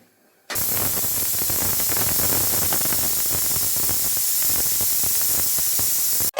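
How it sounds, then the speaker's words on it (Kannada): A pressure cooker cooking chicken biryani vents steam in one loud, close, continuous hiss that starts abruptly and cuts off after about six seconds. "ಸೊ ಇವಾಗ ಅದು ಒಂದು ವಿಷಲ್ ಬಂದಮೇಲೆ ಆಫ್ ಮಾಡೋಣ ಬನ್ನಿ."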